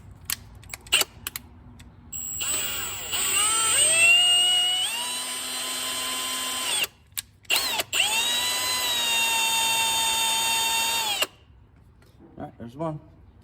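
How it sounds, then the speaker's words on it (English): A drill-driven thread chaser cleans rusty threaded bolt holes in an engine block, a high whine that ramps up, stutters briefly, then runs steadily before stopping, close and loud, with a few knocks before and after. "I'm gonna clean these all out with a thread chaser"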